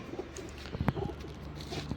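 Soft, low pigeon coos repeat a few times close by, quiet against a faint outdoor background, with no talking.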